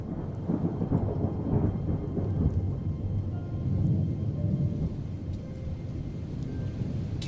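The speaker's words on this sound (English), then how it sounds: "I play some thunderstorms" Thunderstorm ambience with steady rain and deep rolling thunder, a continuous low rumble and patter played quietly in the background throughout.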